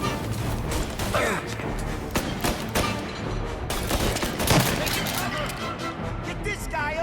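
Dense gunfire in the Mafia Definitive Edition video game: rapid overlapping shots and bursts in a sustained firefight, with crashes and impacts, loud and close throughout, with shouting voices over it.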